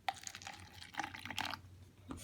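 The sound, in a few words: pouring colored water into an empty glass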